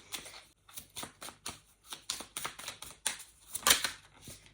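Oracle cards are shuffled in quick, crisp riffling bursts with short pauses between, close by and fairly quiet.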